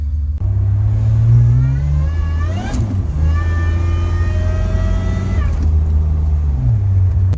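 Supercharged Honda Pilot engine accelerating under 5 PSI of boost, a loud close rumble with rising whine through the gears and brief dips at each shift, steady and continuous throughout.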